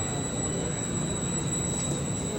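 A steady rumble of a train on the rails at Carmona railway station in Italy fills the clip, with a constant high whine over it and no voices.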